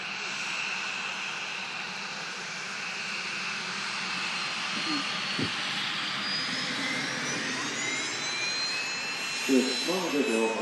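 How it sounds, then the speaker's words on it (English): Business jet engines roar at Manchester Airport, a sustained loud whine and rumble that rises in pitch as the aircraft passes, with a voice talking briefly over it near the end. "Lovely sound there from the jets."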